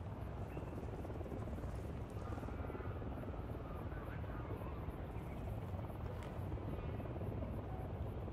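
Helicopter rotor in Ghost Recon Wildlands, a steady low thumping drone that holds evenly throughout without breaks, moderately loud and continuous in the game scene.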